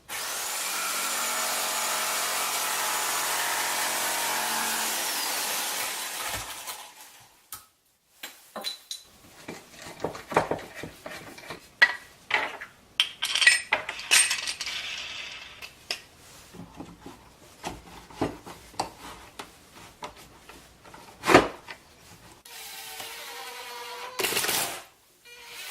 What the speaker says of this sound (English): I need to cut a slot here.